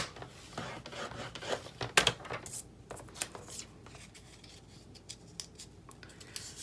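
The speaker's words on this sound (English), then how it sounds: "we are going to score it in half" Scoring a 1 1/4-inch piece of vellum in half for a Valentine's Day gift tag gives close, soft scraping and rubbing strokes. A few sharper scratches come early on, then lighter intermittent rasps follow.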